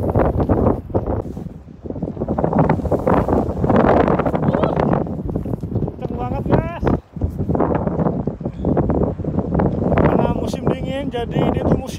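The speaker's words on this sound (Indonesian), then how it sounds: "Musim dingin anginnya gede lagi." Strong winter wind buffets the microphone on a farm in Japan, a loud continuous roaring rumble that surges and dips, with people talking over it throughout.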